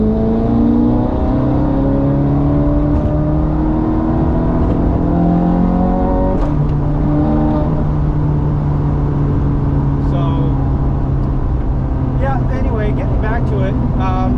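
A Ferrari sports car engine idles with a rumble, then revs up sharply and settles, its pitch rising and falling, close and loud.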